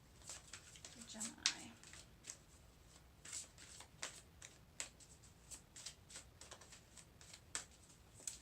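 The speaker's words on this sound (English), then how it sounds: "Once I'm done shuffling everything" Playing cards are shuffled in a series of quick, crisp riffles and flicks, close and fairly quiet, with a brief murmur of voice near the start.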